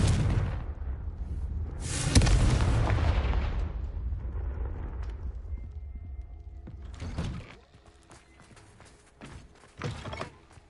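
A Confringo fire spell detonates in a spider-infested cellar in Hogwarts Legacy, a deep booming explosion peaking after two seconds and rumbling away, followed by scattered clicks and thuds.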